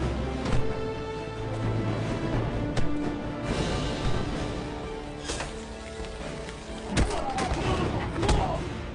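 Bombs and gunfire tear through a palace in an action-film battle: repeated booms, sharp cracks and rumbling blasts, loud and dense, layered under a busy mix of other battle noise.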